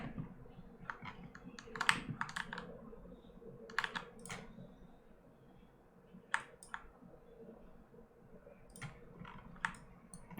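A computer mouse clicks at a desk during 3D texturing work: scattered, crisp, close clicks in short bursts with quiet pauses between them.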